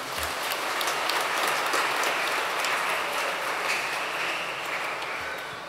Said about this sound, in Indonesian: Boleh tepuk tangan buat Kak Amel.